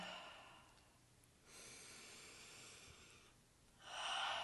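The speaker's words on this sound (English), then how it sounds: "Big deep breaths." Deep breaths in and out during a guided breathing exercise in a children's live classroom, with two long, soft airy breaths followed by a stronger, louder exhale at the end.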